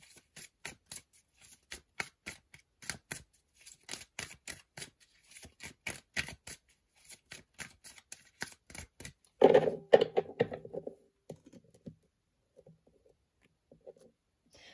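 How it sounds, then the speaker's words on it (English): Tarot cards shuffled and drawn during an angel reading in Sedona: a long run of quick, crisp card flicks and riffles, close and alone, then a louder burst of shuffling before it thins to a few soft taps. "So let's pull some more cards and get some clarifiers."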